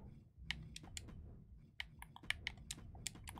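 Quiet clicking of keys on a computer keyboard as a code is entered letter by letter, with irregular taps spread over a few seconds at close range.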